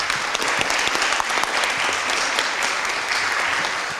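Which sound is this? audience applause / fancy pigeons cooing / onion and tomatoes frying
audience applause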